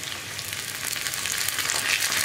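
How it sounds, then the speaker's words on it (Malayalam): Onions and curry leaves fry in hot oil after mustard seeds have popped, cooking for a lentil and spinach curry; a steady, close bright sizzle with no talking. "അപ്പോൾ കടുക് പൊട്ടി കഴിയുമ്പോൾ നമുക്കിതിലേക്ക് ഉള്ളിയും കൂടി ചേർത്ത് കൊടുക്കാം"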